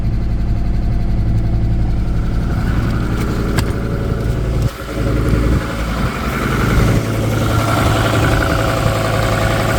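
A car engine idles steadily up close after a cold start, a continuous low rumble with a brief dip partway through, no talking.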